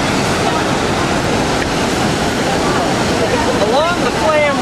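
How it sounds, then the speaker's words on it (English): Loud, steady rushing water roars from a nearby waterfall beside the Flam Railway in Norway, with a voice briefly rising above the noise near the end. "Along the Flam Railway is a waterfall that the train stops at"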